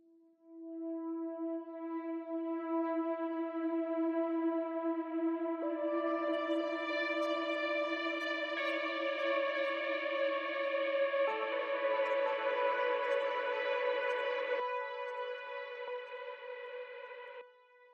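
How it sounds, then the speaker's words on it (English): Super saw synth patch of five voices with clipping, chorus and delay, sustained chords stepping through changes for about seventeen seconds, steady and loud, with no talking. "so it's a super saw with some clipping, some chorus and delay."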